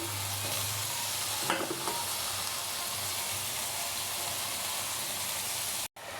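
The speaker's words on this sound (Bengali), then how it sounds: "লবণ পরিমাণ মতো দিয়ে এগুলো একটু ভালো করে ভেজে নিব।" Chopped tomatoes with spices fry in a pan for a fish curry, giving a steady close sizzle with a few stirring clinks, then a brief dropout at the end.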